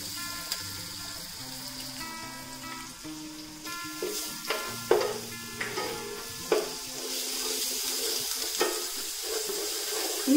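Ginger garlic paste fries in a pan as a base for pulao, giving a steady sizzle with sharp metallic clinks and scrapes from a spoon stirring it, close and with no talk.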